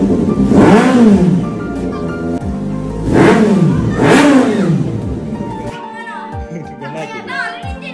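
Kawasaki Z800 motorcycle engine revving in several loud, rising and falling bursts, then idling lower as the bike starts to move, with people talking nearby.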